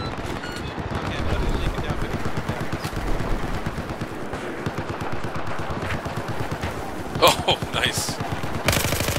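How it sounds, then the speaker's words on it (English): Rapid automatic gunfire in the video game Battlefield 4 during a 64-player conquest match, a dense stream of machine-gun shots with a few louder bursts near the end, while players talk briefly over it. "Getting shot at."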